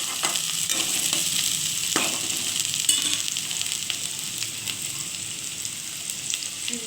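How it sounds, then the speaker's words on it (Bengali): Chopped onion and garlic fry in a pan with a close, steady sizzle, punctuated by a few sharp clicks and scrapes of a spoon stirring, with no talking. "রসুন কোচানোটা আর পেঁয়াজটা দিয়ে ভালো করে ভাজতে হবে।"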